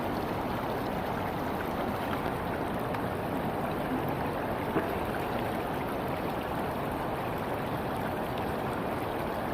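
Water washing and swirling in a gold pan while panning for gold, a soft, steady trickling slosh heard close and alone.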